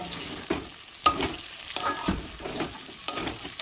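Fried cauliflower pieces being stirred and sautéed with spice paste in hot oil, a soft steady sizzle broken by a few sharp spoon scrapes and clinks against the pan, close and alone.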